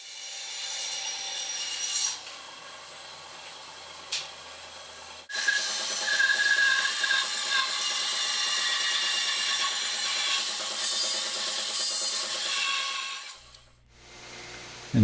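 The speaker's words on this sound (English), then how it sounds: "we'll bandsaw these in to get them kind of roughed in" A bandsaw roughs an hourglass shape into the sides of wooden cannon-wheel spokes, with a steady rasping cut for most of the stretch after a quieter lead-in, ending in a brief lull and clunk.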